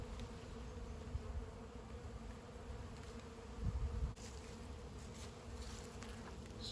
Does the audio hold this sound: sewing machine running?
no